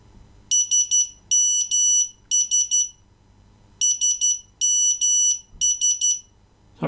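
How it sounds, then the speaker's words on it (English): A 2001 Nokia 8310 mobile phone plays a loud, piercing electronic ringtone in rapid beeping bursts, grouped in repeating phrases with short gaps, heard alone without voices. "Let's have a listen to the ringtones."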